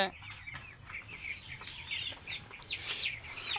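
Broiler and Sonali chicken chicks at a wholesale market chirp constantly in shrill high peeps, a dense flock cheeping close by with no break.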